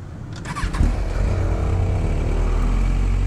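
An Aprilia RSV4 RR sport motorcycle engine starts and revs up, then settles into a strong, rumbling idle close by, with no voices.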